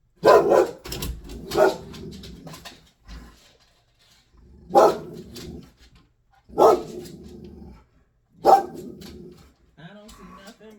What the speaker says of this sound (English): I don't see nothing but a dog.